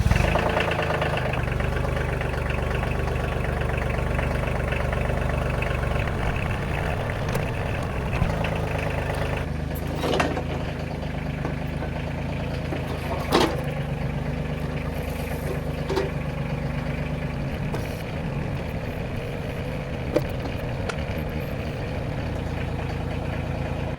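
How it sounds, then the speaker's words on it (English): Kioti 50HR tractor engine idling during a service check, a steady low diesel rumble throughout with a few sharp clanks and knocks on top, no talking. "I'm gonna start this up, kind of inspect some things, move my hydraulics around"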